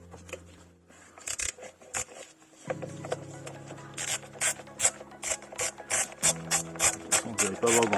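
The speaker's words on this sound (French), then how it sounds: "il vous faut un petit cliquet avec une douille longue de 10" A ratchet fitted with a long 10 mm socket loosens a bolt, giving bursts of rapid metallic clicks in an uneven rhythm, close and fairly loud, with short pauses between strokes.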